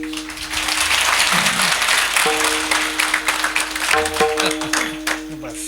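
Broad applause swells from an audience at a devotional saptah gathering, a dense wash of clapping that runs throughout while sustained musical tones and a voice come and go over it.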